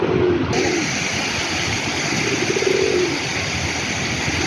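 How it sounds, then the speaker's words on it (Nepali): European pigeons coo softly at dusk at a temple site, with low, rolling calls repeating over a steady background hiss of ambient noise. "Guys European Parewa."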